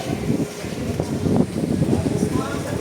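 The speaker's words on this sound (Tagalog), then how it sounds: "Lakas nito, malakas ang hangin" Strong wind gusts after a typhoon buffet the microphone in a low, rumbling roar, while people talk over it, in Dinahican, Infanta, Quezon.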